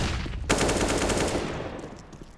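Rapid pistol gunfire in a Counter-Strike match: a loud burst of shots cracks out after a brief pause, then the shots trail off quickly.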